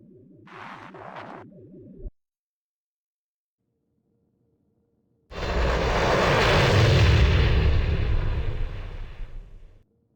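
A spaceship in Star Wars: The Old Republic departs with a short rising engine whine, a pause, then a loud, broad roaring thrust that swells for several seconds and cuts off.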